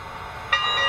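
A Lionel 2-8-8-4 EM-1 model steam locomotive with automatic sound sequencing running: a steady mechanical hum, then a sudden brighter burst of whistle-like tones that holds loud through the second half.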